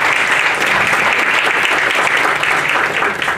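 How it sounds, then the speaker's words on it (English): An audience at an awards ceremony applauding, a dense, loud, continuous wash of clapping from many hands that holds steady throughout. "let us give a great round of applause"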